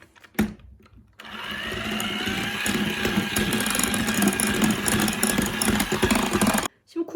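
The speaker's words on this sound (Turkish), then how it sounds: "Şimdi bundan sonra mikserin düşük devrinde çırpma işlemine devam edeceğiz ki yumurtamız sönmesin" An electric mixer whisks eggs steadily at low speed for several seconds, a continuous motor hum with light rattling, starting and stopping abruptly.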